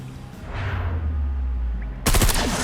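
Gunfire from the video game ElementSpace, heard as a short, loud, sharp burst of shots near the end, following a low, steady rumble.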